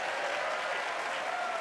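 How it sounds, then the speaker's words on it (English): Audience at a NASA news conference for the OSIRIS-REx asteroid sample reveal breaks into sustained applause, a dense even wash of clapping with no pauses. "don't be afraid to clap or cheer"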